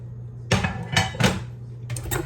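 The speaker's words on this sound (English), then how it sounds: "put them on this cookie sheet and get them in the oven" Potato pieces go onto a metal cookie sheet headed for the oven, making several close, sharp clattering knocks and scrapes in an uneven rhythm.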